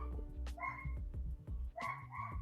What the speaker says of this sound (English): So you know they having fun barking at each other.